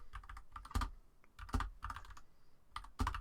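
Clicky keystrokes on a computer keyboard, typed in irregular bursts with brief pauses between them, close and fairly quiet with nothing else over them.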